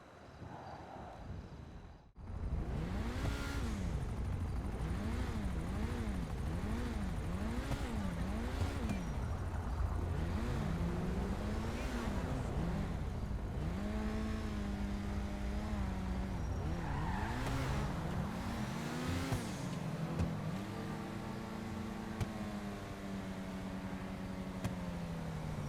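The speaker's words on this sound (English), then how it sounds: "As I'm driving around in this most legendary car ever" Old Grotti sports car engine in a racing video game, loud and continuous, revving up and down in repeated swells as it accelerates and shifts, with brief tire squeals, after a short quiet start.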